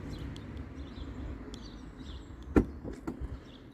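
The tailgate of a BMW 320e opening, with a sharp latch click followed by quieter clunks and a soft mechanical whir over low background noise.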